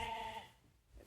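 A single sheep bleats briefly on a farm, a faint nearby call that fades quickly into quiet.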